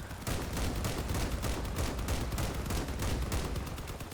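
Rapid automatic gunfire in the vehicle combat game Crossout, a dense, continuous burst of shots lasting several seconds, loud and close with no talk over it.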